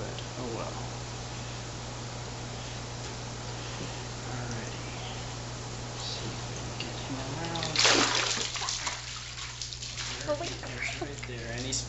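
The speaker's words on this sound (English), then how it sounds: "There, and he's splashing everybody." A tilapia thrashing in a net splashes water during weighing at an aquaponics tank, with steady background hum and noise and a louder burst of splashing partway through.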